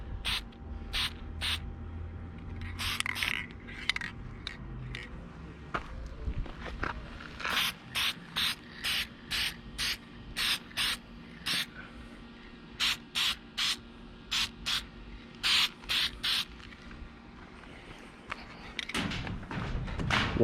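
Short hissing bursts of spray paint lay a coat over a newly welded trailer latch, repeated many times in quick puffs with small gaps and a few longer passes, close and fairly quiet against faint background noise.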